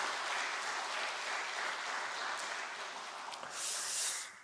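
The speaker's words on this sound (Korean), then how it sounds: "다시 한번 고마운 마음을 박수로 전하겠습니다" A church congregation claps together in thanks, a dense sustained wash of applause from many hands in a large room that swells near the end and then tapers off.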